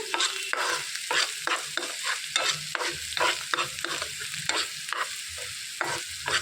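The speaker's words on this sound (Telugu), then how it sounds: "ఒక 1/2 టేబుల్ స్పూన్ పసుపు వేసేసుకోవాలి. బాగా కలిపేసుకోవాలండి" Turmeric being stirred into onions frying in a pan, a continuous close sizzle with quick, repeated scraping strokes of the spoon keeping a steady, brisk rhythm.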